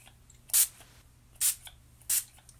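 A spray bottle mists a face during a makeup routine, three short, close hissing sprays spaced about a second apart in a quiet room.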